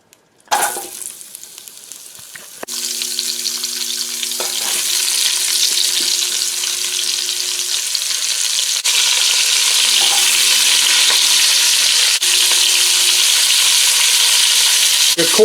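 Chopped vegetables dropped into a Dutch oven with beef for a beer-braised roast hit the hot pot with a clatter, then settle into a steady, loud sizzle with faint stirring and no talk.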